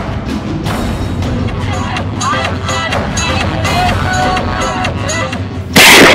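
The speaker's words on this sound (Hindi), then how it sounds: "पहले बुगालिया के समर्थकों ने 2-3 हवाई फायर किए और फिर बुगालिया को बंदूक देकर उनसे भी हवाई फायर करवाया" Several gunshots fired into the air by a politician's supporters, repeated sharp cracks over a continuous noisy crowd background, with a louder burst at the end.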